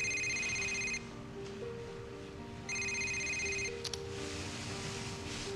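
A telephone rings with two quiet electronic ringtone bursts separated by a pause, over a low room hum. No voices are present.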